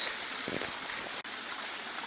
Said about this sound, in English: I could hear some running water, so came down, and what a great spot.